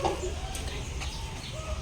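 Chickens at a school farm run by a young farmers' club cluck and call over steady background noise, close and fairly loud, with a voice talking faintly underneath.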